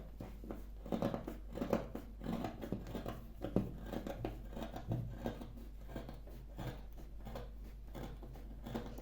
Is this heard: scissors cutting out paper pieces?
yes